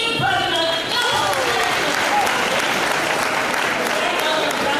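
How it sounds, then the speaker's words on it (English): At an education dialogue in Nairobi, an audience gives a guest a loud, continuous round of applause, thick clapping with a voice briefly heard under it. "I'd like us to give a very good round of applause as we welcome the rest."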